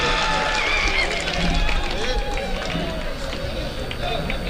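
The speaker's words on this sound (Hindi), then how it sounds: "दोस्तों एक मरतबा भरपूर तालियां बजा दीजिए डॉक्टर" Mushaira audience applauding a poet, a dense wash of clapping mixed with crowd murmur and voices, steady and fairly loud across the whole stretch.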